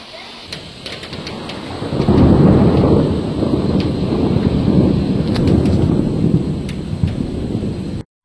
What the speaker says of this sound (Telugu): ఎంత పెద్ద వర్షం స్టార్ట్ అయిపోయిందో